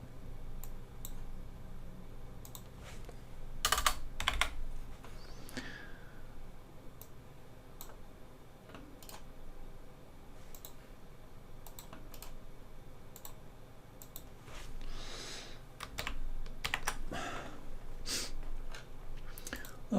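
Sparse keyboard taps and mouse clicks on a computer, close and fairly quiet, arriving in scattered bursts with long gaps and faint background murmur.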